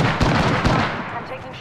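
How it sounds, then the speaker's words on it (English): Grenade thrown during combat in the video game Apex Legends: dense, loud broadband blasts and rumbling bursts that pulse twice in quick succession, then trail into a busy battle din. "Throw my grenade out."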